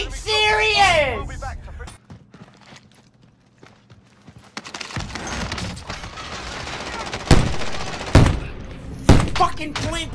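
Shotgun blasts in Call of Duty Warzone ring out as a few sharp, loud reports in the second half, mixed with game noise and shouting players.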